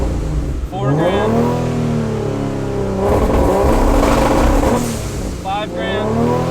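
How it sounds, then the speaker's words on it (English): A Barra-engined Ford Mustang GT350 revs hard on rolling anti-lag, its rising engine note held at steady RPM steps amid crackling pops, loud and close with a voice talking over it. "I can still show you what the rolling anti-lag is"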